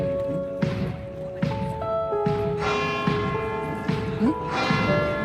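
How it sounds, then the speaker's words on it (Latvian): Church bells ring in Assisi, Italy, several bells struck in overlapping, sustained tones with a slow irregular rhythm, loud and fairly close, with occasional thuds underneath. "Komplektā ar baznīcas zvaniem."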